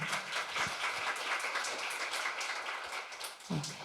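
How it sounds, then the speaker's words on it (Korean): Applause from a conference audience after a presentation at a youth climate session, a moderate wash of clapping that holds steady for the few seconds, heard from within the room. "다시 한번 큰 박수 부탁드립니다"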